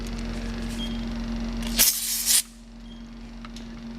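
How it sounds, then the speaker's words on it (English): A short burst of Bullseye leak seeker foam hisses from a spray can onto the AC compressor case of a GMC Acadia, a single sharp spray of about half a second over the steady hum of a running engine. "we're going to spray the bullseye leak seeker foam on there"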